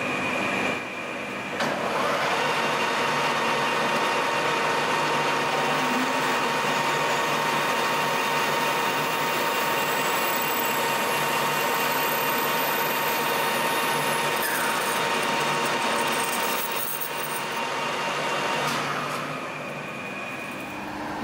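A Colchester lathe enlarges a hole to 7.5 mm, making a steady, fairly loud machining whine and hum that holds evenly throughout with no talking.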